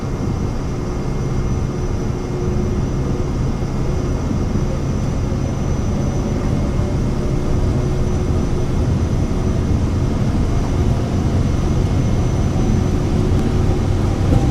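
Cessna-style Vision Jet SF50 G2 single jet engine at takeoff thrust in a flight simulator, a loud steady roar and whine holding constant for the whole stretch with no talk.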